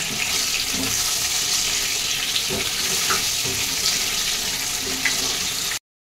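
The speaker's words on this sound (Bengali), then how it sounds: "এবার আলুটা আমি লাল করে ভেজে নেবো।" Potato pieces seasoned with turmeric and salt fry in hot oil for a chicken curry, making a loud, dense, continuous sizzle with occasional light pops and utensil taps, stopping abruptly at the end.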